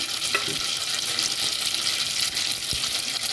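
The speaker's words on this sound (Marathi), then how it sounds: "जिरे मोरे कडकड झाले की मग हिंग घालायचं" Cumin and mustard seeds crackle in hot oil in a pan, a dense, steady hiss with fine popping throughout, close and fairly loud.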